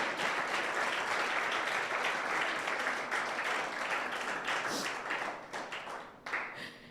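Church congregation applauding the Lord during a sermon, a sustained burst of many hands clapping that gradually thins and scatters toward the end.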